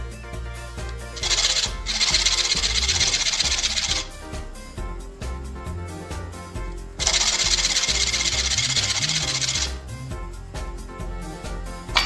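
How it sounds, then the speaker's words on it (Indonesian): A small brass or copper pendant piece held in rubber is rubbed back and forth on 80-grit sandpaper, giving two long bursts of close, harsh scraping separated by quieter handling noises. "Kita gosok-gosok di amplas nomor 80."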